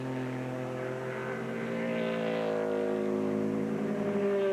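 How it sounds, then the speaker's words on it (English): Big iron V8 engines of American GT race cars at Mid-Ohio drone with a steady, full-throated tone that swells slightly as the cars pass at a distance. "Great sound from those American GT cars, mostly full-throated, big iron V8s."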